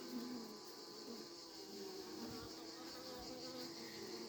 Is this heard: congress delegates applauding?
no